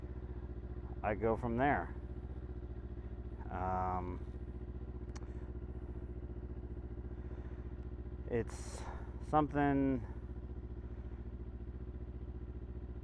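A motorcycle engine idles steadily while warming up after a cold start, a constant low drone running through the whole stretch beneath intermittent nearby speech.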